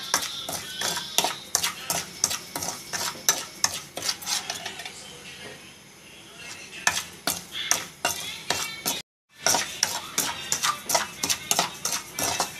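Dry suji semolina being stirred and roasted in a pan, a spoon scraping and clinking against the metal in a steady, rapid rhythm with a brief pause partway through, close and fairly loud, with no talking.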